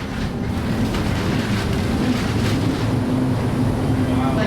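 Monsoon wind buffets the cabin of the world's largest cable car in Sapa, Vietnam, a loud, continuous roaring rush that fills the whole stretch without a break.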